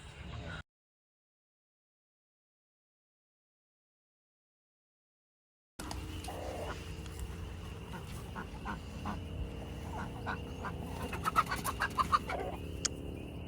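Chickens being chased around a homestead yard squawk and cluck amid steady outdoor noise, with sharper bursts toward the end, after a brief cut to near silence.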